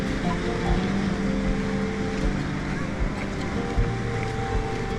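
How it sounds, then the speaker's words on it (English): Ocean waves break continuously on the beach at Playa Honda, Tenerife, a dense, steady roar of surf mixed with wind buffeting the microphone, loud and unbroken throughout. "there's certainly more waves this year than last year"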